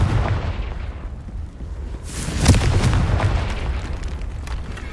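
A Confringo fire spell detonates in the Hogwarts Legacy video game, a loud booming burst near the middle over a dense rumbling game soundscape that lingers afterward.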